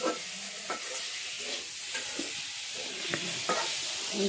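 Fish and vegetables frying in a pan in a village kitchen, a steady soft sizzle with a few scattered stirring scrapes and clicks, close and fairly quiet with no talk.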